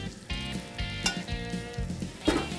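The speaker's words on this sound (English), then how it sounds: "Now what I'm gonna do is put the bacon back in the pan" Bacon sizzling and crackling in a frying pan, with a few louder spits and pops over a steady fry and some clatter, close up and with no talking.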